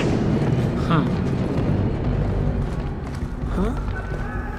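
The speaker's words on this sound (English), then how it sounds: "I just heard footsteps." Heavy footsteps thud repeatedly in the Splinter Cell Blacklist video game, moving close and steady beneath a dense layer of game ambience and occasional voices.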